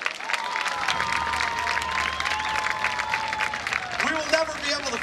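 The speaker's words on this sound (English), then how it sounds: "Let's give a round of applause for our auditor" Audience clapping at the Wauseon homecoming pageant in 2018, steady and moderately loud throughout, with a sustained tonal hum and a voice speaking over the applause near the end.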